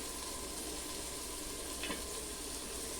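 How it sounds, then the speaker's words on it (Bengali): Spices frying in a pan on a clay stove give a steady, close sizzle that runs throughout, with one brief scrape or stir partway through. "মশলাগুলো আমি একটু ভেজে নিব সুন্দর করে"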